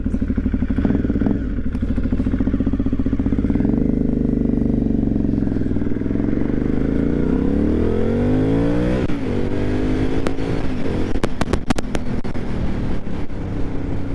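An Aprilia Shiver 750 motorcycle engine idles roughly close by, struggling to keep running, then the throttle is blipped and held so the revs rise and fall, with some clattering near the end.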